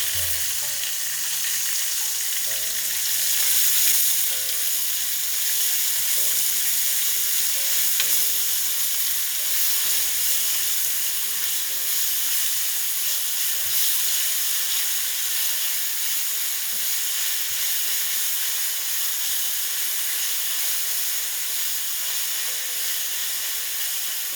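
Finely chopped medium onion frying in a pan for a Nepali mixed vegetable curry, a loud continuous sizzle and hiss that holds steady and close for the whole stretch, with no talking.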